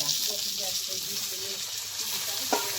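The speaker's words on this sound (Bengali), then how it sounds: "এবার আমি দিয়ে দেবো বেগুন কুচি।" Chopped eggplant frying in a pan with onion and garlic, a continuous close hiss and sizzle with light stirring knocks throughout.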